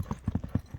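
Horses' hooves galloping at a horse race, a quick run of rhythmic clip-clop thuds, close and fairly loud, with no talk over them.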